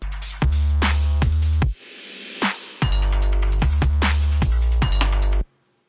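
A loud electronic drum loop pounds with a heavy booming kick and sharp claps in a steady, punchy pattern, with bright hi-hats ticking over it, then cuts off abruptly.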